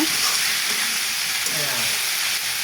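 Snail noodles being stir-fried in a pan and tossed with Maggi masala, a continuous close sizzle and hiss with light stirring, briefly joined by a faint voice.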